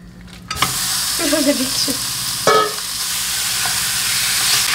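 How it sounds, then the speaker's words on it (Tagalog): Pork belly, about a kilo, hits a hot pan and sizzles loudly at once, with a short stir and scrape midway and steady frying hiss continuing throughout. "mainit na yung kawali natin. Ilagay natin yung mga 1 kilo ng pork belly"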